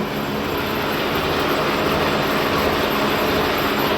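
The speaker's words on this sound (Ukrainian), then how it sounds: "На зубофрезері тут теж всяка робота йде помаленьку" A gear hobbing machine cuts gears in a workshop, giving a loud, steady mechanical roar with a constant hum and grinding texture throughout, close and unbroken.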